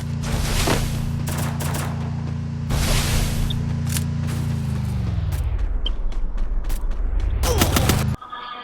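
Rapid bursts of gunfire crackle through a Free Fire battle royale match, loud and dense over a steady droning hum that drops in pitch near the end before a final burst cuts off.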